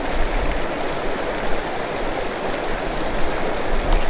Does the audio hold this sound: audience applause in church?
no